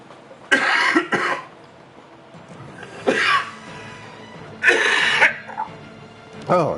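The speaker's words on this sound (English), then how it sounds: "I needed that coughing fit, clearly." A coughing fit from one person: bursts of harsh, loud coughs and throat clearing close to the mic, separated by quiet pauses, with no speech.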